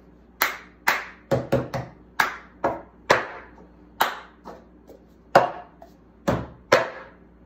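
Hands clap and plastic cups tap a table in the cup game rhythm: about a dozen sharp, close percussive hits in a quick, uneven pattern with short pauses, and no voices.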